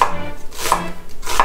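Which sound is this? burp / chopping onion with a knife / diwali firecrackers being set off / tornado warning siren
chopping onion with a knife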